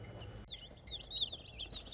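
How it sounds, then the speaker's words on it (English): Newly delivered chicks peep in a cluster of high, thin chirps over low rumbling background noise, calls repeating irregularly and fairly close throughout. "And here are the chickens. The new chicks."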